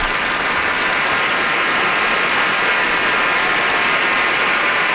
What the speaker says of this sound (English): Where's my applause?